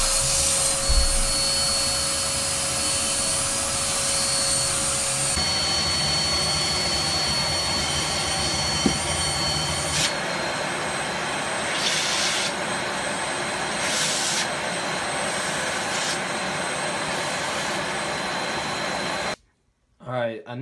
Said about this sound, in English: I will be putting my Joy-Con into the vacuum for another 30 seconds or so